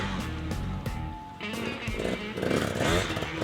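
A KTM 200cc two-stroke dirt bike engine buzzes and crackles up close, with a raspy revving burst in the second half; a voice is briefly audible.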